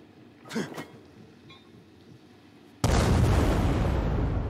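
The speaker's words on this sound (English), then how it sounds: "Yep, I've got these do-it-yourself grenades." A do-it-yourself grenade in Dying Light 2 goes off with a sudden loud, broad blast that rumbles on for nearly two seconds, following a brief voice and quiet moments.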